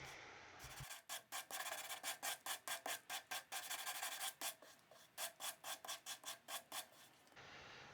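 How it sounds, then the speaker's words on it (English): Wooden sewing machine drawers are rubbed back and forth on 100 grit sandpaper laid on a granite plate, giving a steady rhythm of about two dozen rasping strokes, close and clear, with no speech. "I used the granite plate and some 100 grit sandpaper to flatten them out"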